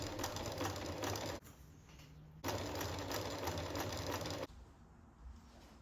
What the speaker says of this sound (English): I will sew this in place just by top stitching along the edges.